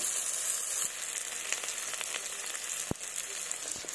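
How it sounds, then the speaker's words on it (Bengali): Chopped onions frying in oil in a wok, a steady, close hiss of sizzling with scattered pops and one sharp clack partway through. "পেঁয়াজগুলো হালকা লাল করে ভেজে নেব"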